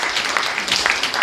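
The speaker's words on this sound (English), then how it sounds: "So give yourselves a huge clap." An audience at a ukulele group's themed session claps together in a brief, steady burst of applause filling the room.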